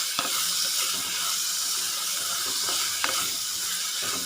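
Tomato and onion sauté in a pan for a Kerala-style anchovy fish curry, giving a steady, close sizzle broken by a few sharp stirring clicks.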